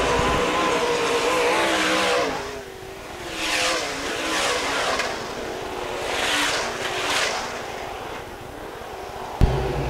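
Modified race cars on the dirt oval at Fairmont Raceway, engines roaring continuously with several cars sweeping past in loud swells and fades.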